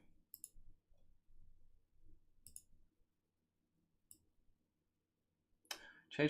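Keyboard typing on a computer comes through as a few soft, isolated clicking bursts spread over several seconds, with a voice speaking at the end.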